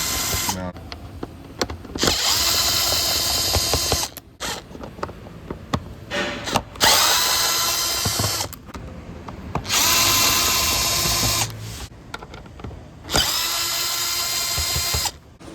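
Cordless power drill backing out the six mounting screws on a Ram 1500 5.7 Hemi air box lid, several bursts of whirring of a few seconds each, close and loud, separated by short pauses with handling clicks.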